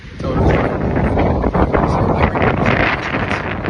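Strong wind buffets the microphone with a loud, continuous rumbling roar that gusts unevenly throughout.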